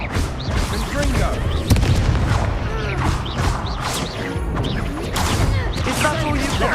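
Confringo blasting spell explosions in Hogwarts Legacy combat: booming bursts and crashes inside a dense, loud battle mix, with game voices speaking throughout.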